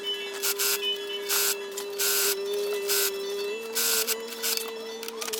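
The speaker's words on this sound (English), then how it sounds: "Now I'm gonna go ahead and sew my 3 widths together in order to make one long strip" Sewing machine stitching three widths of fabric into one long strip for a slipper chair slipcover, running in short bursts of whirring separated by brief pauses, close and fairly quiet, with a steady hum underneath.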